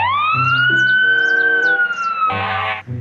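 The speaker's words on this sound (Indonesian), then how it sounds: "Lihat teman-teman, di sini ada mobil pemadam kebakaran." A red fire rescue truck toy's electronic siren wails loudly in one long rising-and-holding tone, ending with a short harsh buzzing burst, up close and alone.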